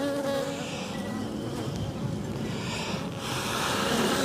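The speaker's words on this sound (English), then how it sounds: "So I'm just blowing on the bees there just to move them out the way." Honeybees buzz steadily and loudly at an open beehive during a live inspection, a dense continuous drone close by with no talk over it.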